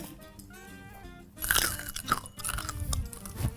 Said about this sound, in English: You heard the symphony of crunch.